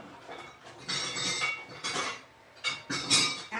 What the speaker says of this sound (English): Okay, hold on while I grab a whisk.